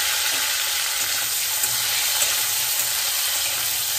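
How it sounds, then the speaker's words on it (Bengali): Diced potatoes frying in oil in a wok in a home kitchen, a continuous close, even sizzle with faint stirring scrapes and no speech. "অল্প লাল করে আমি ভেজে নেব"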